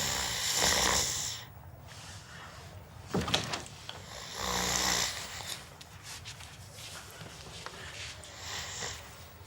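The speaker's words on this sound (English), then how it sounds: "You're snoring, man." A man snores while asleep, loud, rasping breaths that swell and fade in a slow rhythm, heard up close in a quiet room.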